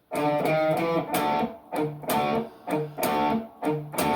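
Distorted electric guitar chugs out chords in short bursts, with tight palm-muted root notes between louder strums, a repeating rhythmic pattern with brief gaps.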